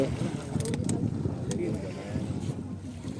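A boat pulls in to a jetty on the way to a pagoda near Mumbai, heard as steady low engine rumble and water wash with wind buffeting the microphone, and a few faint voices in the background.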